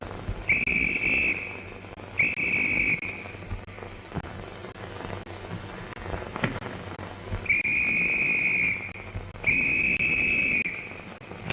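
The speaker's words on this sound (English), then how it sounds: "Hey, was you blowing a whistle?" Four sharp, shrill whistle blasts, each lasting about a second, come in pairs separated by a quiet stretch with faint background noise.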